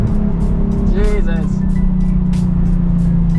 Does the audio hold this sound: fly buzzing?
no